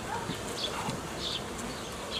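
Honey bees buzzing around a beehive nucleus as frames of bees are added: a soft, continuous hum of wings with occasional higher, closer passes of individual bees over a quiet background.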